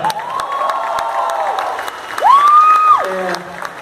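Concert audience at HSBC Brasil applauds and cheers steadily, a crowd wash running throughout while a sustained sung or amplified tone rides over it, swelling near the end.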